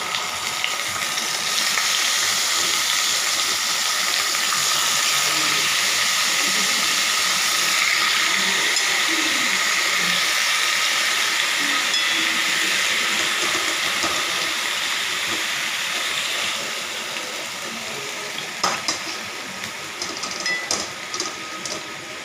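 Marinated chicken pieces hit a hot pan and sizzle loudly in a dense, steady hiss that holds for a long stretch, then eases slightly near the end as a few light clatters appear.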